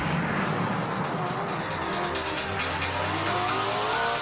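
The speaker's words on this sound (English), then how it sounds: "The V8's hitting more than 260 k's an hour down the main straight." V8 Supercars roar down the main straight at Pukekohe during the 2002 race, a loud, continuous engine howl with shifting pitch and faint tyre noise, no voices.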